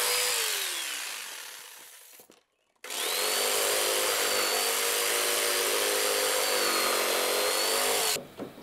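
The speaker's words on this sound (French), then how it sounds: "je réalise à la scie sauteuse des entailles" A jigsaw cuts notches in glued laminated timber with a loud, buzzing whine, pausing briefly before a long steady run, then stopping.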